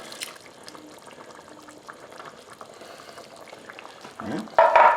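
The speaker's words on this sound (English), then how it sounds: "We'll stir this around." Peanut butter thinned with ladlefuls of hot soup is stirred back into a pot of spicy peanut stew with ginger and tomato, a steady bubbling simmer with faint utensil scrapes and a louder splashing stir at the end.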